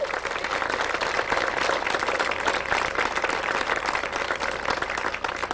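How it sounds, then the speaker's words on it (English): Dense, steady audience applause at an outdoor waterfront festival in Baltimore County fills the scene with continuous clapping from a crowd, loud and even throughout with no speech over it. "Let's give them a real round of applause"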